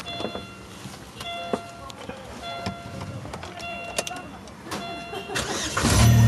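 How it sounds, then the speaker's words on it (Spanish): A Chevrolet Zafira with a blown head gasket, just replaced, starts up: a short cranking burst that catches into a running engine, growing louder at the end, with someone talking over it. "ahí prendimos ya el carro"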